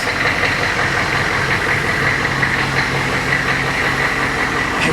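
A military Humvee engine idles steadily close by, a continuous low rumble with a faint knocking throb and no pauses or revving.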